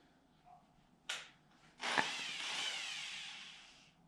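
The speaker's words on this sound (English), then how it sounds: "You're drilling backwards." A power drill with a spade bit runs in reverse during electrical prep work on an off-grid tiny house cabin. A couple of faint clicks come first, then about two seconds of close, steady whirring and grinding.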